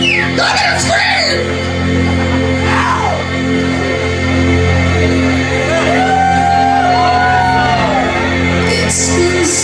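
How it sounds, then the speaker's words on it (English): A crowd at a live show in a club screams, whoops and cheers continuously, loud and close, with shouting voices rising over the roar. "Y'all can scream!"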